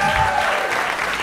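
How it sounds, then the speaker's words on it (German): Audience applause fills a poetry slam venue as the poets are called back onto the stage, a steady dense clapping that holds loud and unbroken throughout the short moment. "Ich möchte euch bitten, nochmal alle Poetinnen und den Poeten heute Abend auf die Bühne zu klatschen."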